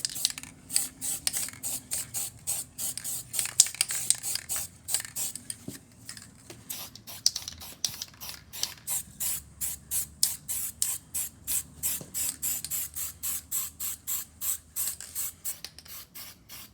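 A vice is given a very light undercoat of metal primer from a spray can, heard as a long run of short, rhythmic hissing bursts, close and fairly loud, with no one talking.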